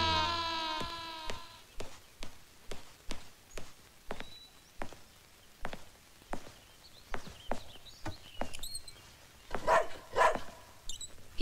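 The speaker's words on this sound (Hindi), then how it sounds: "ये रोमियो क्यों भौंक रहा है?" A house dog barks in a steady series of about a dozen sharp, evenly spaced barks over roughly eleven seconds, fairly close, with a higher whining cry at the start and no talking.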